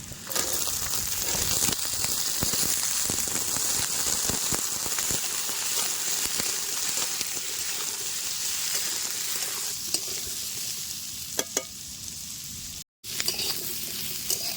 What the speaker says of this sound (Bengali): সবজিগুলো দেখেন বেশ সুন্দর করে ভাজা হয়ে গেছে